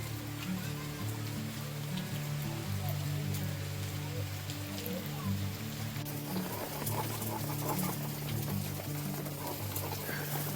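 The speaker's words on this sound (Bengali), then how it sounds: "রান্না করতে করতে আমাদের আবার বৃষ্টি শুরু হয়ে গেছে" Steady rain falls outdoors during open-air cooking, a continuous soft patter under low tonal background sounds and faint distant hum, with no clear voices.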